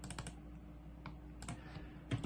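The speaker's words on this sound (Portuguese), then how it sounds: "Eu vou digitar aqui." Someone types on a computer keyboard in short, irregular clusters of crisp, close keystrokes with brief pauses between, and no talking.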